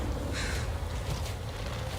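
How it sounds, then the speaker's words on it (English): A crow caws in the video game Blacktail, a few harsh calls in the first second and a half over a steady low ambient rumble of the game's outdoor world. "Let that bird go away."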